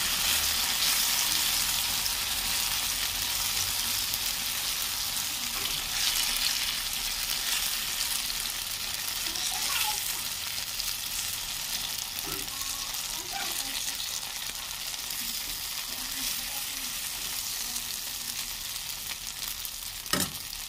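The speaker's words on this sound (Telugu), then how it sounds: "నేను ఇడ్లీ పిండి మిగిలితే దిబ్బరొట్టె వేస్తున్నాను చూడండి" Dibba rotti made from leftover idli batter fries in oil with a quiet, continuous hiss and sizzle, steady throughout with a few faint soft clinks.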